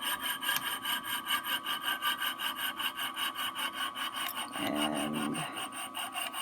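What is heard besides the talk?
saw cutting through metal flatware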